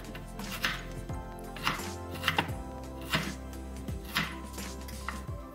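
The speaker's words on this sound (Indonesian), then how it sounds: "Kemudian lengkuasnya ini saya iris-iris, ini akan saya haluskan juga." A knife slices galangal on a cutting board in a sequence of about six crisp, close chops spaced irregularly, with small board knocks and light kitchen background hum, and no talking.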